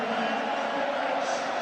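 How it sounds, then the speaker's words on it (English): Rugby league Grand Final crowd between Wigan and Warrington roars steadily from a packed stadium, a dense unbroken wash of cheering and shouting with no single voice standing out. "Listen to this crowd here."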